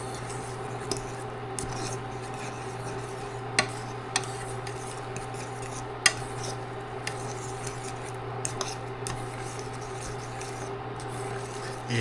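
Cheese powder being stirred into a ground beef potato casserole: continuous rubbing, scraping strokes with a few sharp clicks of the utensil against the dish, close and steady with no talk.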